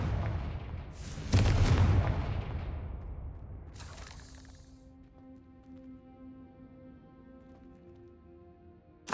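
A Confringo fire spell in Hogwarts Legacy bursts with a loud, rumbling blast, then a sharp crackling flare, followed by quieter sustained tonal game music and a final abrupt hit.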